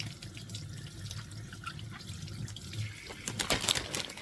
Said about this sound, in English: I'm just going to rinse off.